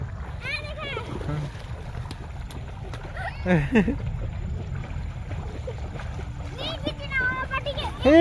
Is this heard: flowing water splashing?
yes